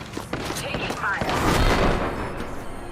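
Rapid gunfire crackles in an Apex Legends match, dense bursts and booms layered over each other, with a voice speaking amid the shooting.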